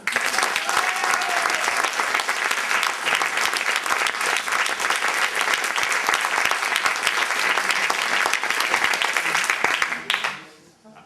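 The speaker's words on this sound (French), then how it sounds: "il va falloir applaudir très fort" Loud, sustained applause from a large audience, steady throughout before quickly fading out at the end.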